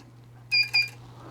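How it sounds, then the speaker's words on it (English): A low primer alarm on a Dillon XL650 reloading press sounds two quick electronic beeps, close and clear, over a steady low hum. "It does have a low primer alarm."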